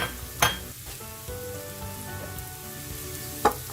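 Mushrooms and nearly cooked potatoes with cumin fry in a pan, giving a soft, steady sizzle with two brief louder clatters as pieces drop in.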